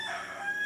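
A rooster crows at night, a single sustained call heard at a moderate distance and fairly faint against a quiet background.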